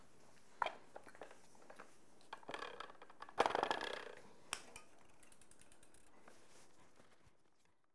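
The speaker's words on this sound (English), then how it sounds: "simple Allen key, I'm going to tighten these bolts." Allen key tightening bolts during bicycle assembly: a few quiet, scattered metallic clicks and ratchet-like scrapes, with a brief denser cluster of clicking midway, close and faint against a quiet room.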